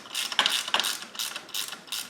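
A hand ratchet clicks rapidly and steadily while tightening bolts during an alternator replacement on a 2007 Buick Lucerne 3.8, close up with a crisp metallic rhythm and no talking.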